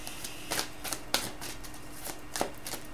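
Tarot cards drawn and handled from a deck, giving a handful of short papery snaps and shuffles spaced irregularly, fairly close and quiet with no talk.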